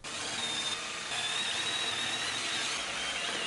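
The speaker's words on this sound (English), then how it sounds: "Just drilling some holes." Drill boring holes through a metal lightsaber part turned on a lathe, a steady high whine with a faint rising tone that runs close and alone for the whole stretch.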